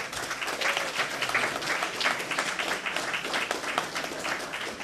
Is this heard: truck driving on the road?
no